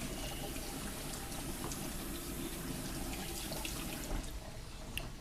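Tap water runs steadily over a seeded vegetable being rinsed after slicing, a continuous close broadband splashing that holds level throughout with a few brief spikes.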